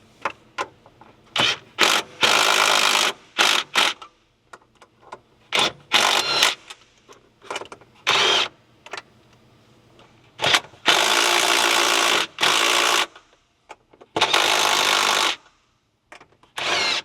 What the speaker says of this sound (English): These are fairly long studs, so I'm just going to run it down with the impact